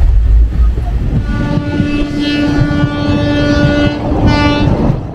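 Chakradharpur Express train running between Howrah and Purulia, a steady loud rumble of wheels and carriages with a long sustained horn tone sounding through most of the stretch.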